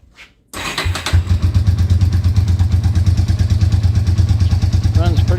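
A 1998 Yamaha Warrior 350 ATV starts after a brief crank, then settles into a loud, steady, close idle with a rhythmic mechanical thump throughout.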